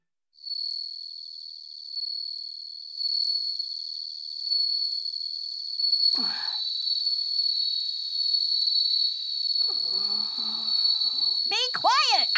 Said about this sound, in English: Look, Maruko, do something about those bell crickets. It's too noisy.